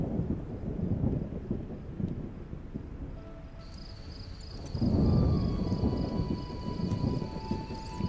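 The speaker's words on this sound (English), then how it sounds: "And it's still raining." Thunder rolls during rainfall in the video game The Witcher. A low rumble swells, eases, then surges again, with soft rain underneath and a faint tonal hum rising in the background.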